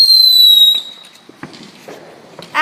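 Fourth of July fireworks open with a loud descending whistle. Scattered sharp pops and crackles follow at varying distances, ending in a louder burst.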